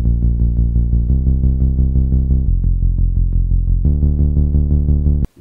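A deep, smooth synth bass made from two pitch-bent sine waves, patched in Serum, plays a steady pulsing pattern of repeated notes, shifting pitch every second or so, then cuts off abruptly.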